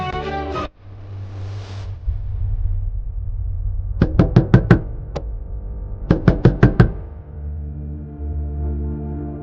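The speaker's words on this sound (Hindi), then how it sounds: "दरवाजा बजाता हूँ।" Knuckles rap on a door in two quick bursts of about five sharp knocks each, close and distinct over a low room hum, with a short voiced sound just before.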